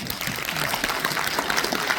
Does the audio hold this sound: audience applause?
yes